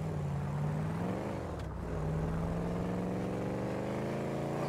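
A car drives in a roleplay video game, its engine humming steadily with a smooth rising and falling tone, close and continuous throughout.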